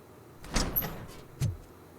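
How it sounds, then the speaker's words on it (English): A door opening in the video game Robocop Rogue City, heard as a short mechanical slide with a soft thud at the start and another brief knock about a second later, fairly quiet. "Oh, this door opens."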